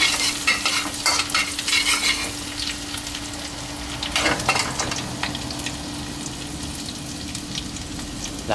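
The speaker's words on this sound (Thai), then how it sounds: "ใส่น้ำมันหมูลงไปนะครับเสร็จแล้วก็ตามด้วยกระเทียมนะฮะเคี่ยวให้หอมนะครับ" Garlic fries in pork lard in a wok, a steady sizzle broken by repeated scraping stirs and a low constant hum underneath.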